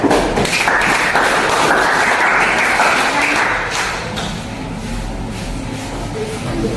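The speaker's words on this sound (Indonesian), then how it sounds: "kita berikan aplaus dulu untuk kelompok" A classroom group of students is applauded by their classmates with steady, dense clapping that fills the whole stretch at close range, easing slightly toward the end.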